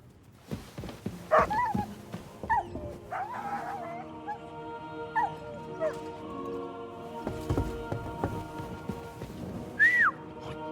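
Barking from a dog in Kingdom Come: Deliverance II, heard as several short sharp calls scattered over a busy game soundscape, with a whistle-like tone and faint voices in the background.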